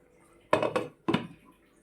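A metal lid set onto a cooking pan while pabda fish and eggplant are being cooked, giving two or three close clanks within about a second, quiet before and after.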